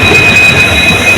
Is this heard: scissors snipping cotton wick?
no